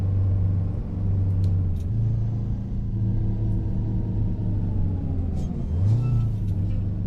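A Peterbilt 359 truck cruising along in American Truck Simulator, its steady low diesel engine drone continuous and close throughout, with a brief rise in engine pitch near the end as it shifts.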